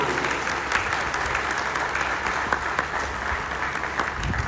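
A seated audience at an Arya Samaj anniversary award ceremony claps hard and steadily, a dense, continuous round of applause close by with no voices over it.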